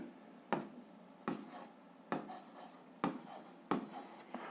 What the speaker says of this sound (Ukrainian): Так, пишемо.